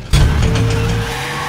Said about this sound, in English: Bats unlatches a motorcycle from it and speeds off in that